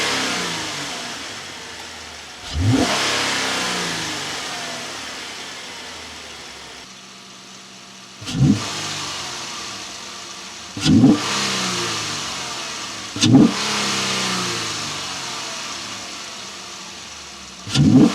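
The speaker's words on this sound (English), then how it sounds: "I'm about to crank it up for the first time so we can actually hear the intake" V6 Ram 1500 pickup with a K&N Next Gen cold air intake, revved in repeated sharp blips: several loud, close engine surges with intake roar, each falling back to a steady idle between them.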